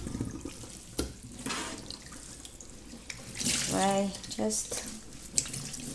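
Water is squeezed out of washed wool knitwear over a sink, making a wet, splashy dribble with a few drips. It stays close and fairly soft while someone speaks briefly over it.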